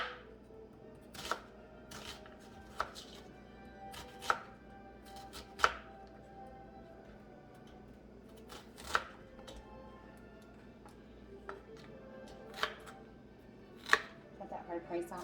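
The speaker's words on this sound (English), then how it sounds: "I'm just gonna cut it down the middle to make it easier to cut" Knife chopping vegetables on a cutting board, sharp irregular thuds every second or two, close and clear over a low background hum, with no talking.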